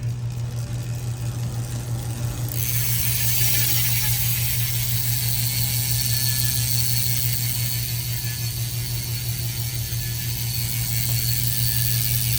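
A bicycle freehub on DT Swiss R470 wheels gives a rapid, continuous ratcheting tick as the wheel coasts, loud and close, with a constant low hum underneath and no voices.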